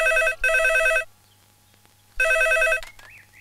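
A telephone rings during a call with two loud electronic ring bursts separated by a pause of about a second, and no speech over them.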